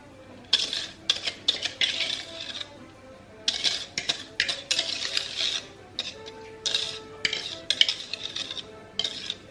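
A whisk clatters against a bowl, mixing egg mixture into dry ingredients for carrot cake batter, in quick uneven bursts of scraping and clinking, close by with brief pauses.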